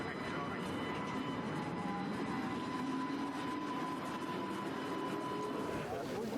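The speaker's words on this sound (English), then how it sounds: "The red streetcar still runs on Canal Street every day" A red streetcar running on Canal Street in New Orleans makes a continuous, even rumble and hum throughout, heard fairly close and steady.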